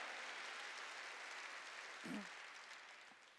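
Congregation clapping in a Korean church service, a steady broad wash of applause filling the room at even loudness, with a brief low thump midway.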